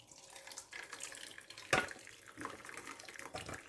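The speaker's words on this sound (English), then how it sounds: "we're going to put it in a sieve and we're going to let all the water drain out" Boiled potatoes for roast potatoes drained through a sieve set over a bowl at home, with water splashing and trickling throughout and a sharper splash burst midway, nearby and moderately loud, with no talk.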